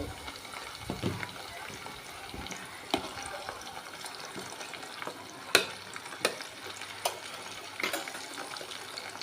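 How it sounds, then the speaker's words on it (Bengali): Dried big-fish shutki frying in oil with bay leaf and browned onion, a quiet steady sizzle under occasional stirring clicks and sharp scrapes close by. "শুটকিটা হয়ে গেছে গা তেলের সাথে ভাজা"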